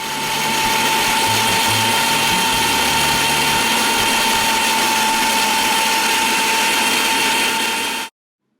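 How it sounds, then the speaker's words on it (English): A kitchen grinder whirs loudly and steadily, blending soaked rice with its soaking liquid, a dense mechanical drone with a whining tone that runs for about eight seconds, then stops abruptly. "Grind briefly till the rice is somewhat blended"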